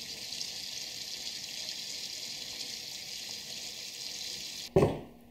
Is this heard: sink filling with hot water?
yes